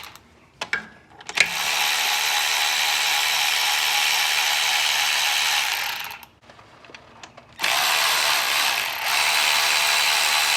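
A ratchet works loose the two transmission filter bolts on a Ford 10R80 automatic, two long stretches of close, steady clicking and whirring separated by a brief pause, with no talk.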